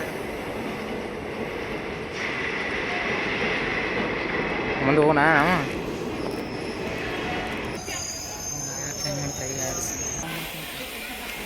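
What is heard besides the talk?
passenger train passing, wheels squealing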